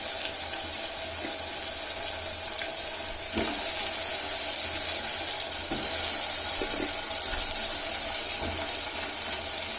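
Eggplant dropped into hot spice masala in a cooker pot, a steady, rushing hiss of frying close by, with a brief dip and a few soft knocks along the way.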